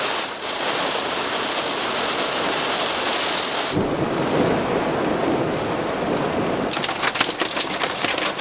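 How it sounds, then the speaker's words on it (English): Hail and heavy rain batter the surroundings on a windy mountain in Georgia, a loud, continuous hiss that shifts in tone midway and later adds sharper pattering impacts, with no voices. "This rain wasn't really looking good, but now it's hailing"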